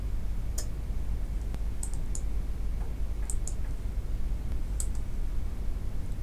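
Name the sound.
computer mouse clicking while designing in CorelDraw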